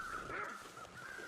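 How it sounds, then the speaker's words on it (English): Crows caw in the video game The Long Dark, a couple of harsh, raspy calls at a moderate distance over a quiet wind-like background. "Got two different sets of crows here."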